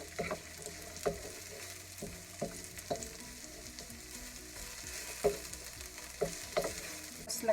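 Chopped onions and garlic sauté in a pan for Filipino ginataang pusit with a soft, steady sizzle, punctuated by rhythmic scrapes and taps of a spatula stirring.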